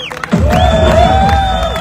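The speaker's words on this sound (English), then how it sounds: "Huge round of applause, come on!" A crowd at an Israelis 4 Trump event breaks into loud cheering and whooping after a brief pause, the raised voices holding steady and strong throughout.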